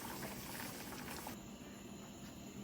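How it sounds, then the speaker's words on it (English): Christmas jam bubbling at a steady boil in a pot on the stove, a continuous soft seething and popping texture that holds evenly throughout with no voices. "now that's going to come back up to a boil and boil for 1 minute"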